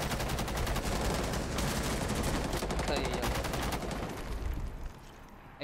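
Rapid gunfire in a shooter video game: dense bursts of automatic shots crackle loudly and continuously for several seconds, then thin out and trail off near the end.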